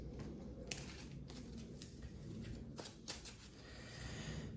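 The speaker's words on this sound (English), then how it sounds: "Machine deck is getting lots of shuffling going on." Faint, soft riffling and flicking of Yu-Gi-Oh cards being shuffled, in quiet irregular bursts.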